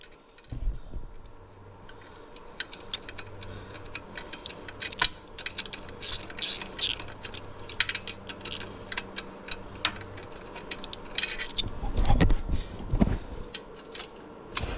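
A small swivel-head ratchet wrench, handled up close, gives bursts of rapid clicking. The clicks come in irregular runs between quieter handling noises, with some low thumps near the end. No one speaks.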